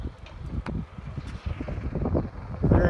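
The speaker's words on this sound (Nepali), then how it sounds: "क्या दामी चिसो हावा" Cold wind blows outdoors on a clear day, rushing in uneven gusts that buffet the microphone, with louder rumbling bursts toward the end.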